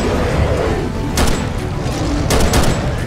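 Gunfire at Bigfoot in the video game BigFoot, loud sustained shooting with a couple of sharper bursts standing out over a constant rumbling din.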